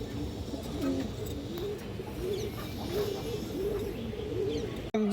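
Pigeons, a flock including Indian high-flyer birds, coo repeatedly in low rolling phrases close by, with faint chirps and a brief knock near the end.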